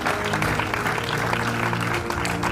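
Dense, continuous applause and cheering from a church congregation during a night worship service, filling the whole moment with a crowd roar.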